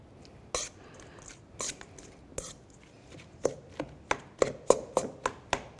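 Cream cheese being mashed together with hazelnut cream in a bowl, a run of sharp, close tapping and scraping knocks that start sparse and then come faster and louder in a steady rhythm toward the end.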